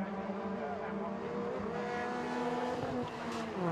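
Ford Fiesta race cars climb a hill at Thruxton circuit, engines droning steadily and loudly as the pack passes, with a commentator talking over the continuous roar.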